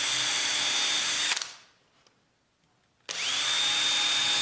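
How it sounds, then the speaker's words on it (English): Power drill boring holes into the wooden top of an old barrel sign, a loud steady whine that stops for about two seconds of near silence and then starts again. "and I drilled a couple of holes."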